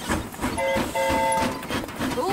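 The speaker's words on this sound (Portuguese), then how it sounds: "O trem do Delfine está chegando a qualquer minuto." A cartoon train pulls into a station, with a steady rumbling chug, hissing steam and a few whistle-like tones over it, loud and continuous with voices mixed in.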